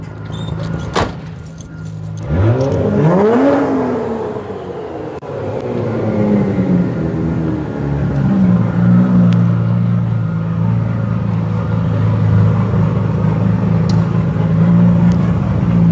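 A Toyota Supra arriving at a car meet, its engine rumbling steadily and loudly nearby with a rising rev partway through, over a background of crowd and traffic noise.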